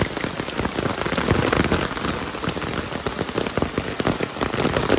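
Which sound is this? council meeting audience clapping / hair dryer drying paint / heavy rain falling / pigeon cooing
heavy rain falling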